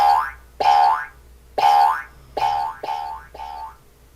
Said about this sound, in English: every time the ball hits the ground, it makes a boing sound